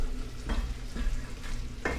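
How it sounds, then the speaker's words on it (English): Pork salsa pasta ingredients being stirred in a pan, with three or four distinct scraping stir strokes over a steady low simmering bed, close and fairly loud. "Okay, give it all a stir."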